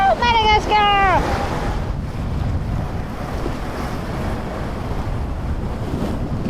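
Open-ocean waves off Madagascar roar and wash continuously against a sailing boat under heavy wind buffeting, loud and close; a brief whistling voice or call sounds near the start.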